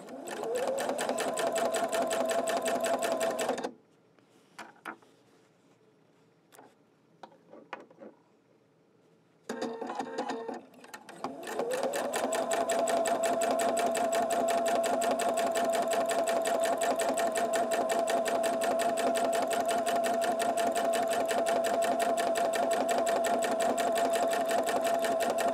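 A domestic sewing machine stitches free-motion quilting, running in a fast, steady whir that stops for several seconds of quiet fabric shuffling and brief stitch bursts, then resumes in a long, even run.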